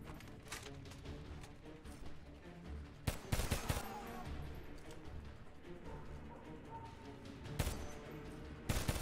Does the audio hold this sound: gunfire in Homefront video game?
yes